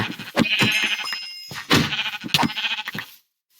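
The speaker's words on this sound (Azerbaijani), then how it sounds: "Quzu tapdım, quzu tapdım." Sheep in the video game Minecraft let out several close, clear bleats one after another, with short gaps between the cries and no talking over them.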